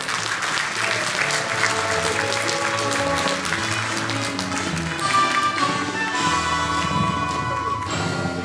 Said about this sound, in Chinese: 我们再次掌声。